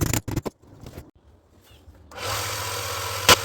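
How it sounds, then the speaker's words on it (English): A few sharp knocks and scrapes are followed by a power sander starting up on a metal ruler, a steady, rasping, hissing drone that runs close and loud to the end, with one brief louder scrape. "More sander noises, not as much yay."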